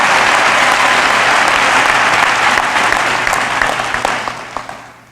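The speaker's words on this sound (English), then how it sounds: "Can we give them a round of applause?" A crowd at a commencement ceremony applauds the graduating class of 2017, with loud, dense clapping that holds steady and then tapers off into scattered claps toward the end.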